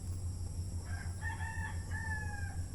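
A rooster crows at a distance over a steady low hum, its call rising and holding for a couple of seconds.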